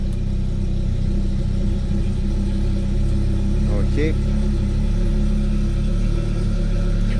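A rebuilt Audi RS3 DAZA engine idles with a steady, low, even drone close by. A brief voice speaks over it partway through.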